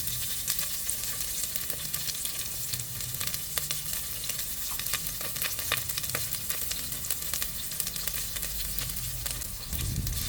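Cinnamon, cloves, cardamom and chopped onion sizzle in hot oil in a pressure cooker, a loud continuous crackling hiss with small pops and a few stirring touches, close up and without voices.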